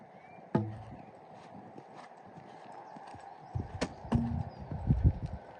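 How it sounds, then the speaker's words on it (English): A cantering horse makes a high, fluttering blow in time with its strides, over soft hoofbeats and low background noise. "That noise you can hear is high blowing, the sign of a relaxed horse"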